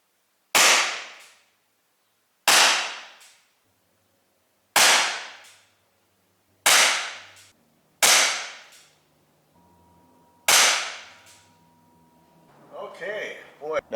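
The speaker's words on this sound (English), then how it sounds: "I am going to shoot down yonder, 10 yards, 30 feet" A Chiappa Rhino 50DS CO2 .177 BB pistol fires at a target 10 yards away: six sharp, loud pops spaced about two seconds apart, each cut off by silence, followed by a brief metallic rattle.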